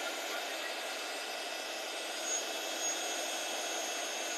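A heat tool blows hot air over clear, glittery embossed lettering in a steady, close, fairly loud airy roar that holds evenly for several seconds, with no talking.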